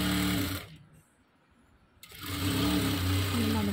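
A sewing machine stitches a cloth waistband onto a baby frock, its steady whirring loud at the start, dropping away to a near-silent pause, then running again at full speed.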